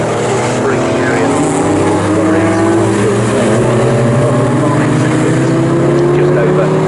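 Classic race cars braking and turning through a corner at Snetterton during a CSCC Future Classics race, engines droning loud and steady with overlapping tones shifting as the cars pass.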